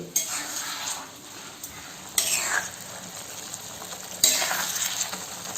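Dry raw coconut stirred in a pan for a Ratnagiri-style chicken bhaji, giving a soft, steady sizzle and scrape with a few sharper scraping strokes against the pan.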